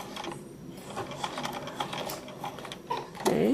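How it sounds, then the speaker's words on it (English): Sewing machine backstitching through quilted fabric, a dense mechanical whir with ratcheting clicks, close and fairly steady, growing louder near the end. "when this edge lines up on the bottom, we're going to do a little back stitch"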